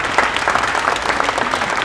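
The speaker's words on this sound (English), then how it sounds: "let's give them a round of applause to say thank you to them" A short burst of audience applause at a TechWaterloo tech event, steady dense clapping heard alone without speech.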